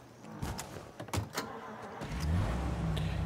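A car in the video game Mafia: Definitive Edition gives a few faint clicks and knocks, then its engine settles into a low, steady rumbling drone, fairly quiet overall.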